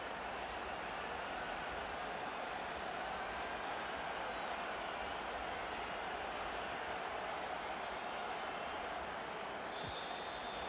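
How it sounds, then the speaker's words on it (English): Stadium crowd in the American football game Madden 25, a steady, fairly faint wash of distant cheering and murmur that holds evenly throughout without distinct peaks. "This crowd is making it tough down deep in the red zone"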